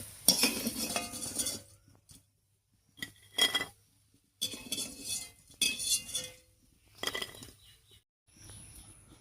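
Metal utensils clinking against a frying pan as crisp fried bora fritters are lifted out, several short scraping bursts separated by quiet pauses.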